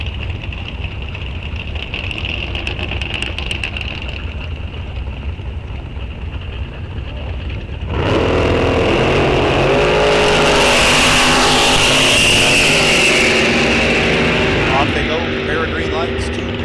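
A Buick Regal launching down the right lane in a bracket drag race at Rock Falls Raceway, with a steady engine drone that swells into a loud, sustained full-throttle roar about halfway through.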